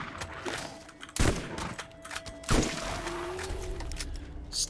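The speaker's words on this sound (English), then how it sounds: "This is a terrible shotgun. I wish I'd never changed to it." Shotgun fire in the video game Borderlands Remastered: two loud, sharp blasts about a second apart over steady in-game ambience and a faint mechanical hum.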